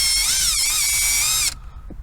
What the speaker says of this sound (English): And now I am using the drill,